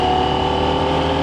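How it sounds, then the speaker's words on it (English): Motorcycle exhaust captured on a DJI Mic 2 wireless microphone while riding: a steady, loud droning engine note with constant low rumble and wind hiss, no speech. "you'll hear whatever the other microphone is picking up, most likely the exhaust"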